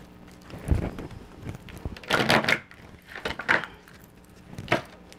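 Tarot cards being shuffled by hand, a series of soft riffling bursts and papery clatters, close and fairly quiet.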